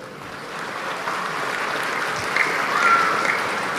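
Crowd applause in a mosque during an anniversary celebration gathering, a steady wash of many hands clapping for several seconds, moderately loud with a slight swell toward the end and no talking.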